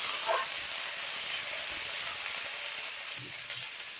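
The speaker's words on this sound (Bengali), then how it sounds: "এরপর সমস্ত সবজিগুলোকে একটু ভালো করে ভেজে নেব।" Mixed vegetables for shukto fry in a pan, a steady, close sizzle and hiss that stays even throughout, with a faint stir or scrape near the end.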